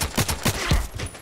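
Rapid gunfire bursts in the shooter game Contract Wars on the Lake map, a quick string of sharp, close shots in an uneven rhythm with no talking.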